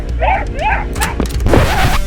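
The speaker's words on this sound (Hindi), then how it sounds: "लोग अभी कुत्तों की आवाज सुन लेंगे" A pet dog gives a few short, close barks and yips in quick succession, mixed with other household sounds and some voice in the background.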